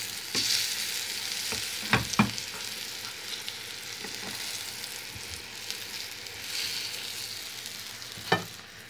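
Steady sizzling of eggplant frying in a little oil, with a few sharp clinks and scrapes of a utensil against the pan; no one speaks.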